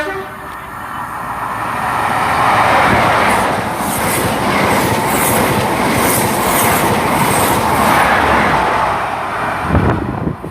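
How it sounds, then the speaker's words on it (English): A cross-country HST from York to Plymouth, with class 43 power cars 43384 and 43366, roars past at close range at Starcross or Dawlish, a loud sustained rumble of engines and rolling wheels with bursts of clatter, fading slightly near the end. "And now coming is the cross-country service from York to Plymouth, and it's a HST service as well."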